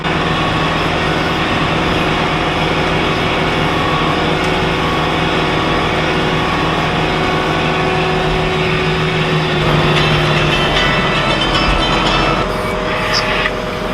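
A cab tractor engine runs steadily in a hay field during the final hay cutting, a loud constant low drone that continues without a break.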